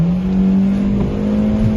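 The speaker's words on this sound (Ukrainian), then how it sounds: "Можна нажати, вона розганяється" A Ravon R2 car with an automatic gearbox accelerating, its engine droning loud and steady from inside the cabin as the pitch climbs slightly, with no talking.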